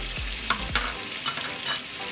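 Spices and ground pepper are fried and stirred in a pan for Arabian Bukhari rice, a soft sizzle under a few distinct spoon knocks and scrapes spaced about half a second apart, close-up with no voices.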